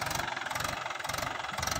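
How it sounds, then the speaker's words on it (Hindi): A Mahindra tractor engine labours under load while dragging a cultivator through a field, giving a steady, close, pulsing mid-pitched drone with a knocking rhythm and no voices. "ज़्यादा कल्टीवेटर लगने पर ट्रैक्टर आगे नहीं बढ़ पाता है"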